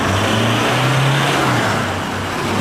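Toyota Hilux GUN125 fitted with a Ganador aftermarket muffler, engine held at mid speed: a loud, steady exhaust drone with a low throbbing hum that dips slightly, alone without voices.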